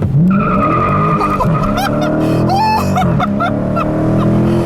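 A 2016 Dodge Challenger R/T Scat Pack launching in first gear with heavy wheel spin: loud, close engine roar rising under a sustained tire squeal and skid.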